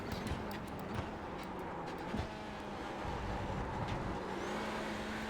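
The Hyundai Veloster N TC touring race car in iRacing holds a steady, loud engine drone with faint gear-shift blips, heard continuously with no talk.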